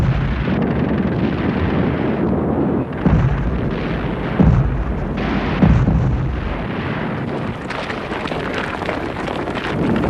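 Sustained heavy artillery, mortar and rocket barrage during the Battle of Berlin, a dense continuous rumble of explosions with several louder booms standing out, steady and loud with wind-like roar throughout.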